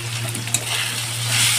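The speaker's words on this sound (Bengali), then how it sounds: "এবারে আমি মশলাটাকে ভালোভাবে কষিয়ে নেব।" A ground spice paste of cumin, black pepper and coriander fries in plenty of oil for a Bombay duck fish curry, a dense, loud, continuous sizzle with a low steady hum beneath, heard close and without speech.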